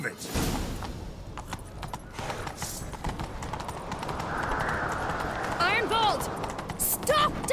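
Galloping hooves of a horse in The Witcher 3 pound in a fast, continuous rhythm throughout a chase, with voices talking over the hoofbeats and a brief swish near the end.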